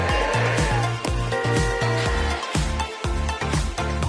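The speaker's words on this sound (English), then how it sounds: "Portable design with lights and sound effects that simulate realistic driving functions." Motor-Master toy car playing its built-in driving sound effects: a loud, rhythmic electronic engine rumble with repeating pulses and tonal beeps, steady and close throughout.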